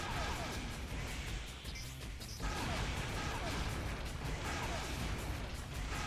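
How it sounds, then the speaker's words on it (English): Dense, continuous rumbling blasts and crashes from explosions in the video game Armored Core 2: Another Age, with a thick wash of noise that barely lets up and a brief dip in the middle. "A lot of explosions going on, so it's buffering the game console quite a bit."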